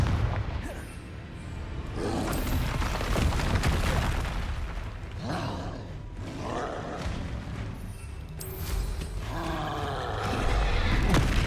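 A Confringo blasting spell is cast in the Hogwarts Legacy video game, a series of loud, roaring fiery bursts and booms over busy combat noise, rising again near the end.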